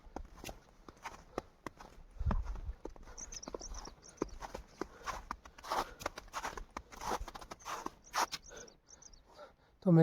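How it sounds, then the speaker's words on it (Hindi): Horses and mules walk a wet mountain path on the route to Kedarnath, their hooves clip-clopping in an uneven rhythm close by, with scattered clatter and brief bursts of other noise. "घोड़ा खच्चर भी आ गया अब तो"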